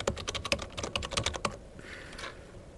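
Rapid, close typing on a computer keyboard while entering text into a node, a dense run of crisp keystrokes for about a second and a half before falling quiet.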